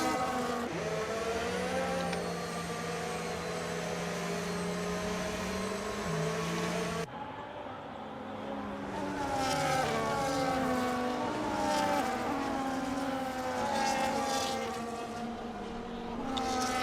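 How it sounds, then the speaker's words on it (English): F1 cars in the Japan round of a racing video game drive behind the safety car, their engines droning in overlapping tones that shift in pitch as cars pass, continuous and fairly loud. "So for now, we have to sit behind the safety car and watch some cars drive around."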